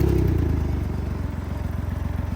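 A Can-Am Ryker 900 three-wheeled motorcycle fires up and settles into a steady, rapid idle, a close, loud rhythmic engine putter heard alone.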